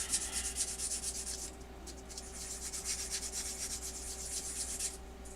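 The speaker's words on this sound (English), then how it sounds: "Now time for our sanding ASMR." Steady, close rasping strokes of sandpaper rubbing against a small hard plastic model seat part, continuous and rhythmic with no talking.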